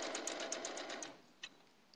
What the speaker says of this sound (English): I'm just gonna keep on stitching